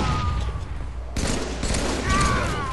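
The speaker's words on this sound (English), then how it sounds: "I'm getting shot from across the map, so I'm gonna put shots on him." Rapid gunfire bursts in a shooter video game, loud and dense, with automatic fire rattling continuously and a sharper shift partway through, mixed with game effects.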